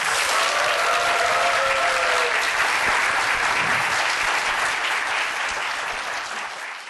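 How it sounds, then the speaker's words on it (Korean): A lecture audience gives steady, loud applause after a startup talk, continuous dense clapping that holds throughout and tapers slightly at the end. "박수 한번 주세요"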